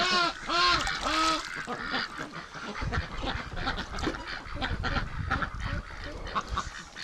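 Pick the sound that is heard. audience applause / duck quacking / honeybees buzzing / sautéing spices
duck quacking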